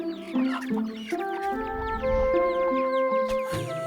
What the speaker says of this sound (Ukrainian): Наступного дня пташка Дейзі піднялася майже на саму вершину курника.